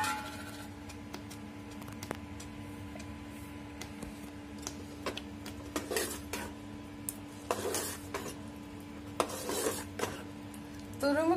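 Coconut pieces stirred into melted jaggery for a moong dal payasam, a spoon scraping and clinking against the pan in scattered bursts over a steady low kitchen hum.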